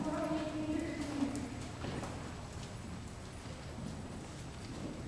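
A pony's hooves clip-clop steadily on an arena track during a riding lesson, a continuous rhythmic footfall at moderate distance, with an instructor talking over it.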